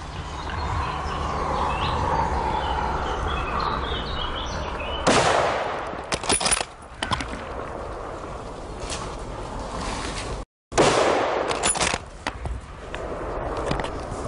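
Rifle shots ring out during a spring wild boar hunt at a forest edge in the Uckermark, several sharp loud cracks spaced over a few seconds amid outdoor ambience.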